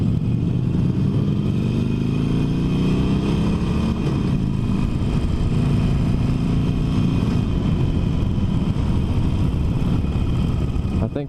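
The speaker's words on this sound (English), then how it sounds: "I'm not impressed with the stock exhaust sound." A Harley-Davidson 48 motorcycle with its stock exhaust runs steadily and loudly up close, a continuous engine drone with a slight rise in pitch early on.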